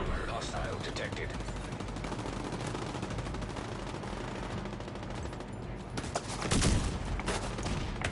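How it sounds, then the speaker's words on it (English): Sustained automatic gunfire in the Division 2 video game runs dense and continuous for several seconds, followed by a louder burst near the end, with talk mixed underneath. "Who's shooting me?"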